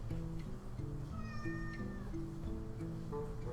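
A pet cat gives a drawn-out, quavering meow, faint and under a busy background of game music and sound effects.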